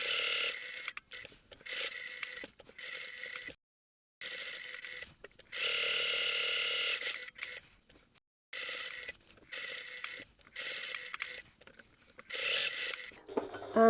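Sewing machine running in short bursts while top stitching a hobo bag, its steady mechanical whir stopping and starting repeatedly with brief pauses between runs, close and fairly quiet, with no talking.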